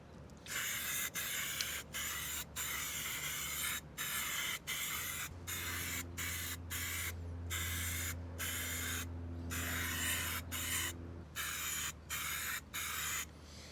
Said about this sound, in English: We're gonna spray the coat on.